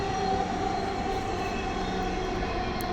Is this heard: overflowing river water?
no